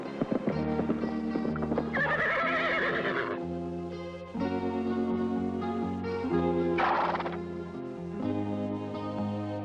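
A roughly 1,000-pound stunt horse neighs and whinnies while its hooves clop, a sustained, fairly loud tonal sound with rhythmic hoofbeats running through it.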